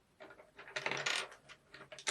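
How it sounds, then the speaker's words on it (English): Prismacolor colored pencils clatter and knock against each other in a series of quick, close rattling bursts, with no talking. "Excuse the sound of pencils."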